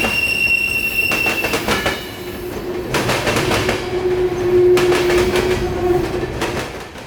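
A long freight train led by two CP ES44DC locomotives passing in Plant City, Florida, loud and close, with rhythmic clickety-clack of wheels on rail joints and sustained wheel squeal.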